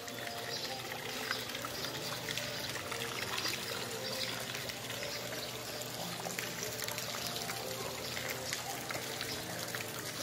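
Floodwater from an overflowing river pours steadily past a street storm drain in Guaçuí, Brazil, a continuous rushing, trickling wash heard close, with voices faintly underneath.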